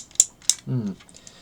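Ratcheted knee joint of a Hello Carbot Grandeur Hawk transforming toy robot, two sharp close plastic clicks followed by a brief creaking grind, small and dry.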